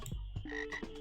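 Two or three short frog croaks from the video game Finding Hannah, loud and close, each a brief rasping burst separated by short pauses, with no talking.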